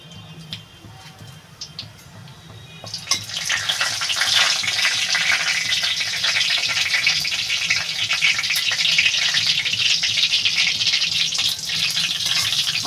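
Bay leaf and whole cumin drop into hot mustard oil in a heated kadai for a Bengali prawn curry, setting off a sudden, loud, steady sizzle that crackles on close by without pause.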